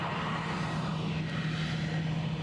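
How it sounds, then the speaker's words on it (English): An EasyJet Airbus A319-100 airliner at Edinburgh Airport gives off a steady, moderately loud jet engine roar with a constant low hum throughout. "That's at least the second Austrian registered EasyJet on the show."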